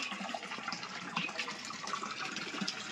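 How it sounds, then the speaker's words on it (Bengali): Water pours steadily into a fish pond being refilled, a continuous close splashing gush with no talk. "ফিশ পন্ডে একটু জলটা ভরতে দিই"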